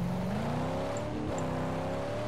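A car engine runs steadily in the Mad Max video game, with a continuous droning tone that rises and falls slightly as the vehicle drives, loud and without talk.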